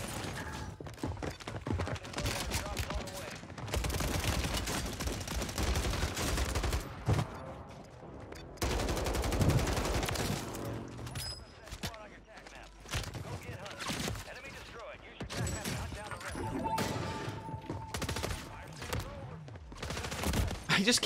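Shotgun gunfire in a Warzone 3 match, a string of sharp close shots and bursts, loud and irregular, mixed with talk and frantic game action.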